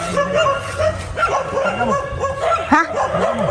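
Two dogs bark and yip close by, with repeated bursts mixed with whimpers over a few seconds.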